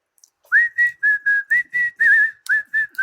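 A person whistles a short, bright tune of about ten distinct notes in a steady rhythm, close and loud with no talking.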